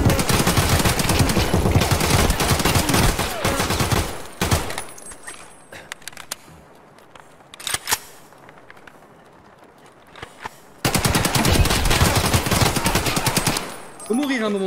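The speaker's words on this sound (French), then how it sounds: "Wouah, mais c'est quoi ces tirs?" Automatic gunfire in the video game Escape From Tarkov, loud dense bursts filling the first few seconds, scattered distant shots through a quieter middle stretch, then another long loud burst near the end.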